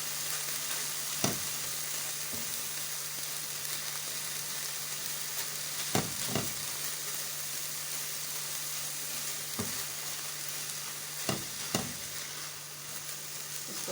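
A sweet milk mithai mixture of melted ingredients and dry milk sizzles steadily in a pan, a continuous soft frying hiss with occasional sharp scrapes and taps of stirring, moderately close.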